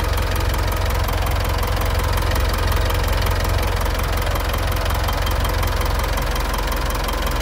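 A warm 2018 Mitsubishi Triton engine idles steadily, a loud, even diesel-like rumble with a fine rapid knock, close up and unbroken, with no voices.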